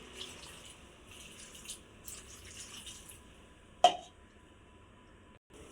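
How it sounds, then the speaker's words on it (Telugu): Water is poured into a bottle gourd curry in a home kitchen: a faint, soft trickle with a single sharp clink of a vessel partway through, no talking. "తగినంత వాటర్ వేసుకోవాలండి."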